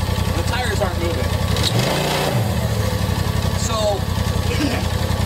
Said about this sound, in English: As soon as I rev it up, you'll see that front clutch grab that belt.